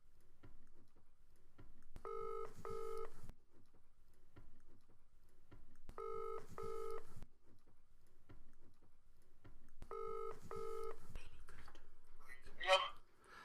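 Phone call dialing tones sound as three evenly spaced pairs of electronic ringback beeps, faint and thin, followed by a short bright chirp, with quiet background voices.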